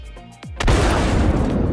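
A missile strikes a Valkyrie ship in the space game Star Citizen: a brief falling whoosh, then a sharp impact that spreads into a loud, roaring burst of noise filling the rest of the moment.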